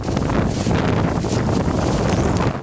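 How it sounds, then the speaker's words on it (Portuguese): A loud gust of wind forming a large whirlwind roars and buffets the microphone throughout, a continuous rushing blast with no voices. "começou uma rajada de vento que deu forma a um grande redemoinho"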